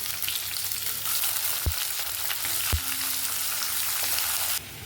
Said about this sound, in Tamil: லோ ஃப்ளேமில் ஒரு 5 நிமிஷம் வதக்கிக்கலாங்க வெங்காயத்தை